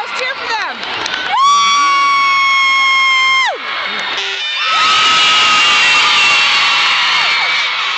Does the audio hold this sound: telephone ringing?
no